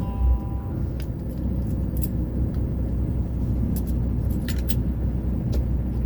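Truck engine rumbling low and steady as the vehicle pulls away and drives on, with light rattles and clicks over the drone and no speech.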